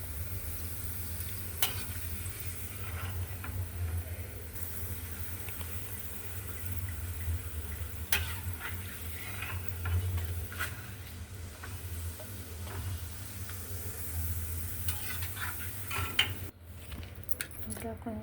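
Papads made with urad flour sizzle steadily in hot oil, a continuous dense frying hiss with scattered light crackles and occasional utensil clinks throughout, fairly close and moderately loud.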